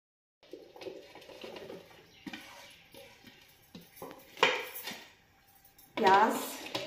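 Pakora ingredients such as potato, onion, frozen spinach and chillies are mixed in a kitchen bowl, giving intermittent clinks and scrapes of utensil on dish, with two louder clattering bursts toward the end and quiet gaps between.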